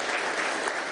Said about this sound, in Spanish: un aplauso al presidente del Banco Central de Venezuela